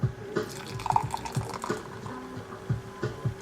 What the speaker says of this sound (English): Here's the pour.